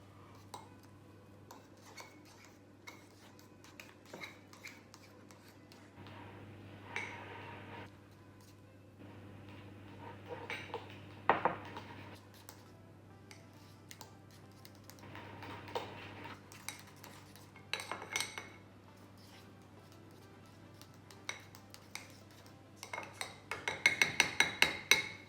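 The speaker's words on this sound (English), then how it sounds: "Mix that in." Pasta is stirred together with egg and cheese in a pan, giving soft scraping and clinking of a utensil against cookware in intermittent bursts, growing busier and louder toward the end.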